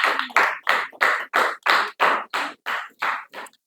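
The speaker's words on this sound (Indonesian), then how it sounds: "tepuk tangan untuk kelompok Indra" A classroom claps for a student group after its presentation, with about eleven crisp, evenly spaced claps in a steady rhythm, close and loud, with no voices over them.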